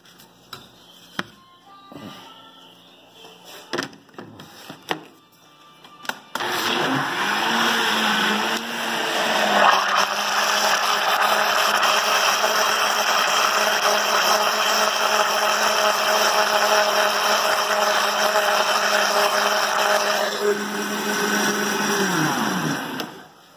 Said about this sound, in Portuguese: Tudo no liquidificador. Aí vamos bater até ficar bem misturadinho.